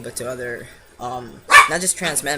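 A dog barks sharply once or twice in a room, loud and close, cutting in over a person speaking steadily.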